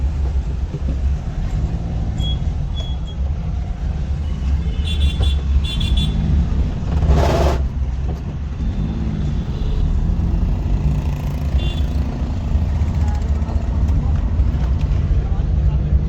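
A Maruti Omni van runs in third gear through a traffic jam, its engine droning loudly and steadily near the microphone, with a short horn toot midway and people talking over it.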